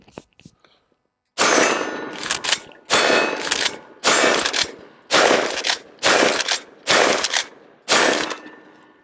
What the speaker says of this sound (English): We're going to start out the shooting comparison here with the SPAS-12 in manual mode.